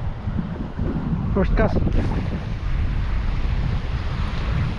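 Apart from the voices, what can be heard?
strong wind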